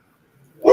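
A single short dog bark or yip bursts out at the very end after near silence, close and fairly loud.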